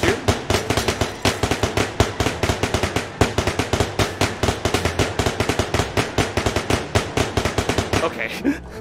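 Rapid gunfire in the VR shooting game Bullet Train VR, dozens of loud, close shots in quick bursts with a steady, nearly continuous rhythm.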